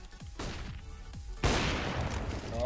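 Kalashnikov gunfire in a video game: a few quick light shots followed by a loud, sharp blast with a lingering roar, close and dominant.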